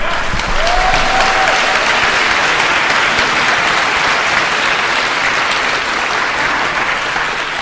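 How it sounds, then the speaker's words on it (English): A community forum audience gives the panel a round of applause, loud, even clapping that starts almost at once and carries on steadily throughout, with a brief faint tone near the beginning. "So can we just have one more round of applause?"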